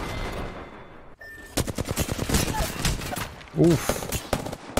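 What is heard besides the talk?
gunshots in a video game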